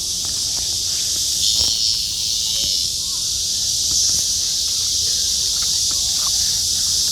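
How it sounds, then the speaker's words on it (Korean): A black cicada (Cryptotympana atrata) outdoors gives a continuous, high, shrill buzz that swells slightly in places, with faint rustling and small handling noises underneath. "저기 심상치 않은 말매미가 있군"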